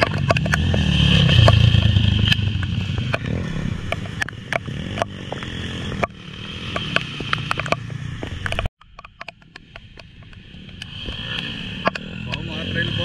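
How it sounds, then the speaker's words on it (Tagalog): A motorcycle rides a rainy, slippery trail as a motocross rider heads out without a helmet. The engine drones steadily under clattering, scraping and crackling bumps, with a sudden brief dropout partway through and talking over it. "Nag-ride ng motor"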